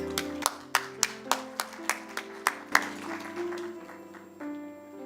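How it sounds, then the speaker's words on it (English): At a conference panel, an audience claps in sharp, evenly spaced beats, about nine in a row, over a sustained tonal backing that continues after the claps fade. "Another round of applause, please."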